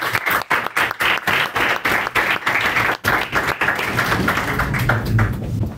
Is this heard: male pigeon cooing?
no